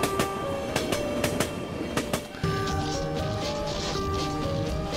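Subway train ambience in the video game Tokyo Dark: Remembrance: a steady rumbling carriage with rhythmic clacks and high tonal wheel squeals, continuous and fairly loud.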